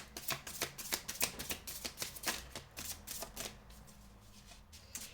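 Tarot cards being handled and laid down during a reading, with a quick run of crisp close flicks and slaps that thin out toward the end.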